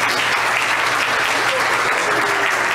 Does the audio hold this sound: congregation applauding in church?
yes